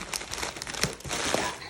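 Packing paper from a beef delivery box crinkles and crunches in a steady close-up rustle of overlapping crackles, with a few sharper crunches standing out.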